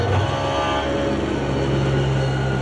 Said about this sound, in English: I'm going to floor it.